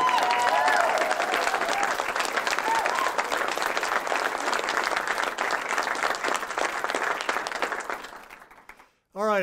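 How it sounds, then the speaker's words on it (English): A crowd at a community art and quilt debut event applauds Shannon: steady, full clapping from many people with a few voices and whoops on top early on, fading out near the end before a brief voice cuts in. "Everybody give Shannon a round of applause one more time."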